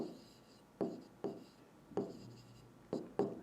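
Pen on paper, close and quiet, with several distinct stroke-like scrapes and taps arriving at irregular intervals.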